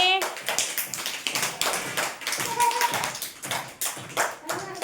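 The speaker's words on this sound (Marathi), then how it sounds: "छान टाळ्या वाजव सगळ्यांनी" Children clap their hands during a shape-walking activity, a run of quick irregular claps and taps at close range, with an adult's voice speaking over them.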